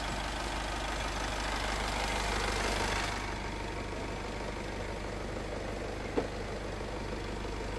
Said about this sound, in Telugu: సైలెంట్గా ఉండిద్ది అనమాట ఇంజన్.